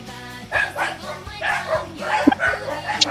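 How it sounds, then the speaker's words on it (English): Champ the dog yips and howls in short, wavering bursts, with several rising tones repeating over about three seconds while people talk and react over it. "Oh my god. The dog singing."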